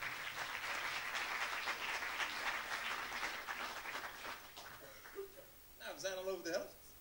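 An audience at a community foundation's awards nomination evening applauds steadily for about five seconds. The clapping then thins out, and a brief tonal voice or sound follows near the end.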